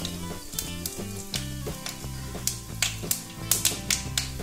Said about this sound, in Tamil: வடகம் பொரியுது பாருங்க.